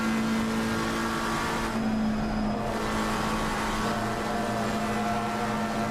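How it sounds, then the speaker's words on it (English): A GT3 race car in the iRacing sim game drives through a corner, its engine a steady, sustained drone with a brief shift in tone midway, loud and alone without talk. "Let's have a listen in, just hear the car push through this corner."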